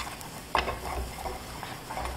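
A flour roux for beef stew is stirred in a pot over medium to high heat, giving a soft scraping swish with a brief clink near the start over a faint steady sizzle, close by with no talk.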